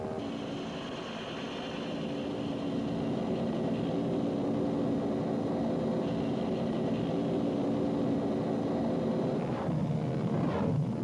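A Bell UH-1 Huey helicopter in flight gives a sustained engine and rotor drone that builds slightly in loudness, with a steady turbine whine above it and a brief sweeping change near the end.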